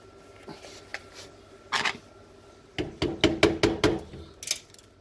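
Metal chimney pipe on a PP130 pellet stove being tapped: a couple of isolated knocks, then a quick run of about eight sharp, close raps in a steady rhythm.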